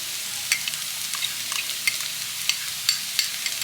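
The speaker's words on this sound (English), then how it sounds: "I'm gonna go in with a heap of garlic." A heap of garlic sautés with vegetables in a hot pan, giving a steady high sizzle punctuated by scattered crackles and pops, with no talking.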